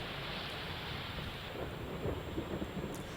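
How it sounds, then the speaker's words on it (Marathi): Heavy rain pours down during a storm in Deoli taluka of Wardha, a dense continuous roar with low thundery rumbling swelling near the end, with no voices. "वर्ध्याच्या देवळी तालुक्यामध्ये मुसळधार पाऊस बरसतोय।"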